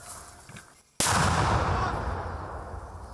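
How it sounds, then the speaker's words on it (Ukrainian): A single sharp mortar blast cracks out loudly after a quiet moment, followed by a long rolling rumble that slowly fades. "Це поруч працюють мінометники."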